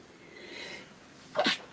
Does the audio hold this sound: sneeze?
yes